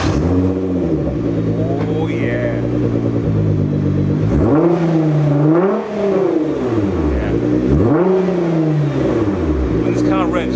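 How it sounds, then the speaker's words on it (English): A 720bhp Nissan GT-R engine idles with a deep rumble, then revs up and down in two big sweeping surges, loud and close, with a brief exclamation from someone inside. "I think I'm going to start the car again."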